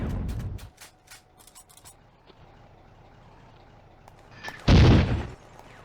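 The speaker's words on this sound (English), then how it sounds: "The mortar shifts fire to infantry in the open." Mortar rounds fired on infantry in the open in a WWII-era war strategy game: a muffled thump at the start, a quiet stretch, then one loud, close explosive boom near the end.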